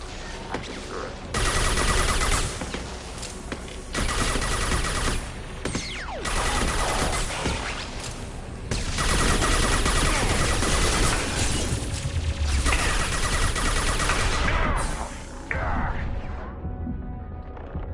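Turret gunfire in Mass Effect 2, with loud sustained bursts of rapid fire broken by brief pauses and crashing impacts, running for most of the stretch before fading at the end.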